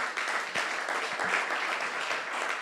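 A church congregation applauds, giving a dense, continuous burst of clapping from many hands at steady loudness, with a few sharper individual claps standing out.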